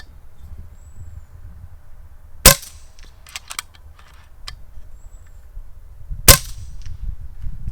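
Two sharp, dry shots from an FX Maverick bullpup PCP air rifle with a shroud and no silencer crack several seconds apart, each brief and muffled rather than booming, over a quiet outdoor background with faint clicks between.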